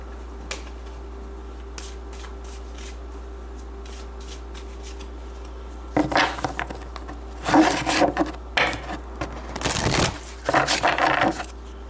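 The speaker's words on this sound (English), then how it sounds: "Let's give it one final shuffle," Tarot cards riffle and slide in several quick bursts after a quiet stretch with a steady low hum underneath.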